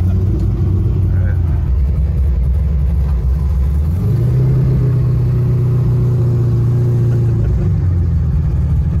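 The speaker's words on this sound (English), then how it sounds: "now we're drifting with Farm Truck" Engine of Farm Truck, a car drifting at the Freedom Factory, droning loud and steady, with its pitch stepping up partway through as it revs harder, with a constant rumble throughout.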